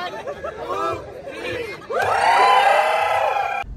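A large crowd at a live stage event in Nashik cheers and whoops loudly, a shorter burst followed by a bigger, sustained roar of voices and chatter.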